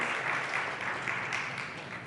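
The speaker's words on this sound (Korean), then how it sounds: "박수합시다." A church congregation applauding at the end of a Sunday worship prayer, a dense, steady patter of many hands from a roomful of people at moderate level, with no voices over it.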